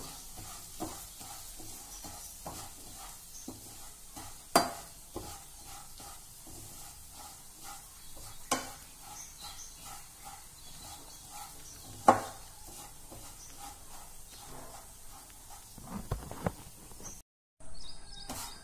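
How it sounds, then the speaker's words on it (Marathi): Vermicelli frying in a spoonful of ghee gives off a steady, gentle sizzle while a spoon stirs and scrapes the pan, with occasional sharper clinks, close and fairly quiet throughout. "त्या छान तुपामध्ये तांबूस होईपर्यंत फ्राय करून घेऊया।"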